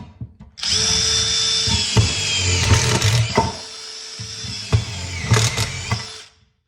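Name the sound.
SuperDrive Mach1 autofeed screw gun driving a screw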